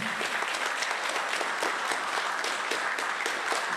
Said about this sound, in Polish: Wielkie brawa i dzięki.